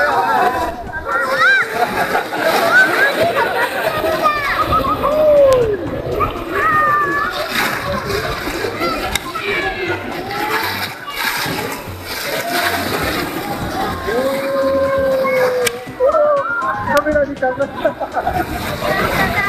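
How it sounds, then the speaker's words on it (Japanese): Chichibu river water rushes and splashes loudly around a Nagatoro line-descent boat, a continuous close wash of churning rapids with voices, including a child, talking over it throughout. "長瀞ライン下り、これから B コース下ってきます"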